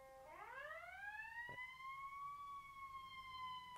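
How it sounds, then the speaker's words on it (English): A fire truck's wailing siren sweeps upward and then holds a steady high tone, fairly distant, with a brief thump partway through. "Do you think I can hear that siren?"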